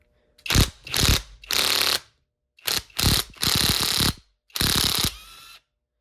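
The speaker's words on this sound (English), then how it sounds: "So I'm going to put an impact on it with a 14 millimeter socket and see how that does for me." An impact wrench with a 14 mm socket rattles an engine mount bolt loose in short, loud bursts, about four separate runs of rapid hammering split by brief pauses, with no talking.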